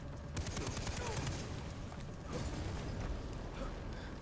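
Sustained rapid gunfire from the Far Cry 3 game, a steady clattering barrage mixed with rumbling, explosive noise throughout, loud and continuous with no clear pauses.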